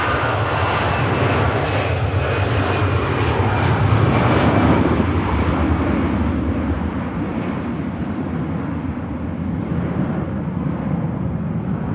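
Aer Lingus Airbus A320 jet at Manchester Airport, a loud sustained engine roar and whine heard outdoors, building then slowly receding as the aircraft moves away.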